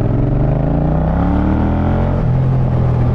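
A Yamaha MT-07 motorcycle engine with a tuned ECU revs steadily and loudly, its pitch climbing, then drops briefly before rising again, with no voices.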